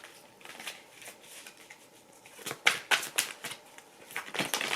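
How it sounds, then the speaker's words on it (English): Tarot cards are shuffled close up in a quick, irregular run of crisp riffling clicks and slaps, growing busier toward the end. "cards are flying out here"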